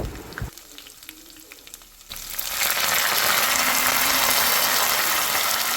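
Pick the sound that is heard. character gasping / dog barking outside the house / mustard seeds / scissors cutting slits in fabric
mustard seeds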